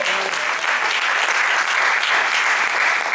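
A church congregation claps hard in sustained, even applause, a thick wall of hand claps at close range running unbroken from start to finish, with faint murmuring beneath.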